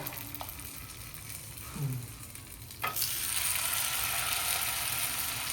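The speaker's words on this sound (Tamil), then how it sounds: "சரி நான் இது பொரிச்சிடலாமா, மீன் பொரிச்சிடலாம்" Fish fries in hot oil, giving a dense, steady sizzle that swells sharply louder partway through as more fish or oil goes in, with a few soft clatters before the sizzle builds.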